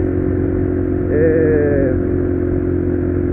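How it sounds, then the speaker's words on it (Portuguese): A Honda Bros 190 motorcycle fitted with a Pro Tork PowerCore 3 stainless steel exhaust runs at a steady low idle, with a brief rise in engine pitch midway before settling back. "Escapamento muito top. Tem um barulho muito da hora."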